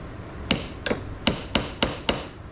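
A hammer taps a nail into a wood board in a wood shop, six sharp, evenly paced strikes up close over a faint background hum.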